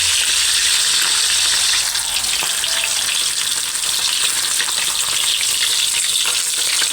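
Tilapia frying in a pan of hot oil gives a loud, steady sizzle with dense crackling spatter that runs without pause for the whole stretch, close up and with no talking.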